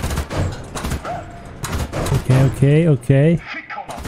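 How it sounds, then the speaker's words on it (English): A rapid autocannon fires in the War Thunder video game, sounding as short bursts of sharp reports early on, followed by someone talking over it. "Like, this is a decent autocannon."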